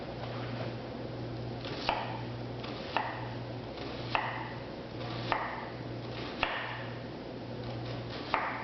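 A knife dicing a sweet onion on a cutting board for guacamole, giving crisp single chops at a steady pace of about one per second over a low constant hum, close and quiet, with no talking.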